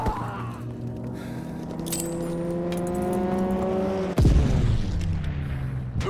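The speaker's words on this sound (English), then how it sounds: "Enemy strafing run inbound." Enemy strafing run in a war film: a continuous loud roar of engines and blasts with a deep booming rumble, rising tones sweeping through, then a sudden sharp explosive crack near the end followed by heavy rumbling.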